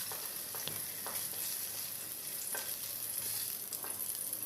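Paneer frying in a wok (kadai): a steady close sizzle with soft scattered stirring scrapes and clinks over a bright hissing bed, no voices present.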